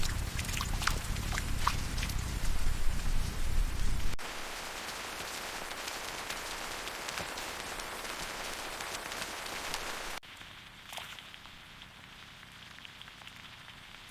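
Steady rain falls on a forest survival camp, a dense, even hiss of drops that changes character in abrupt cuts and fades a little quieter toward the end.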